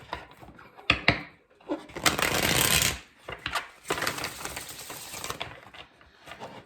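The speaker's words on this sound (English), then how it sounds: "Let's get 3 more shuffles for Pisces." Tarot cards being shuffled in bursts: a quick riffle, then two longer papery shuffling runs with soft taps and pauses between, close and fairly loud.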